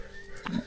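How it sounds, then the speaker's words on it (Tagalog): Large pig on a farm giving one short, low grunt up close against rough background noise. "Baboy, laki baboy oh"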